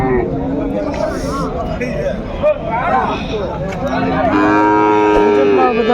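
Several calves, including Jersey crosses, moo amid a noisy crowd at the Punganur cattle market, their bleating calls rising over constant chatter and background bustle.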